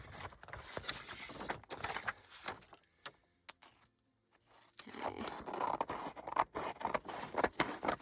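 Scissors cut through old paper with dry scraping snips and rustles, a busy stretch followed by a brief quiet pause, then steady close cutting again.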